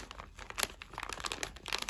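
Vacuum-sealed pork neck pulled from its plastic bag, a quick close burst of crinkling and crackling plastic with sharp irregular snaps.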